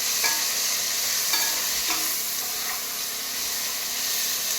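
Vegetarian chowmein stir-fries in a pan after a pinch of ground pepper goes in, a loud constant sizzle and hiss with a few soft stirring knocks, no one speaking.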